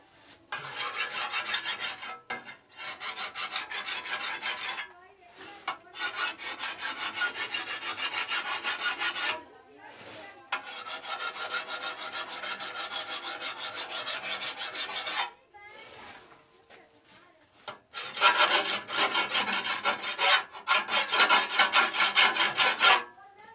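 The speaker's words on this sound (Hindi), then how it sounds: "सब ये कालक लगी हुई है, तो इसको रगड़ते हैं जी" Soot-covered surface being scrubbed by hand in long, steady rasping strokes, loud and close, with several short pauses between bursts of rubbing and no voices.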